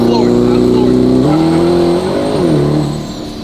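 Twin turbo C8 Corvette ZR1 convertible with a top mount turbo kit and anti-lag, engine held floored and roaring loud and close with a steady, shifting drone, then easing off near the end.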